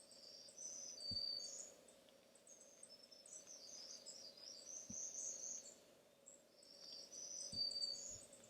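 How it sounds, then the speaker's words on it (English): Northern parula singing on a June nature trail, thin high buzzy song phrases repeating faintly over steady insect drone, with a few soft thumps. "I think we're hearing a northern parula as well."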